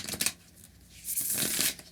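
A tarot card deck is shuffled in a couple of close, crisp riffling bursts, brief and alone without talk.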